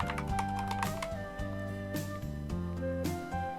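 Rapid typing on a computer keyboard, a quick run of light key clicks close up, heard over a sustained musical background with no voices.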